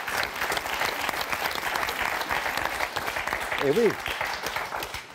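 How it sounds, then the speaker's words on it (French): A studio audience on a French television word game show applauds loudly and steadily throughout, with a brief spoken voice over the clapping. "On applaudit très fort."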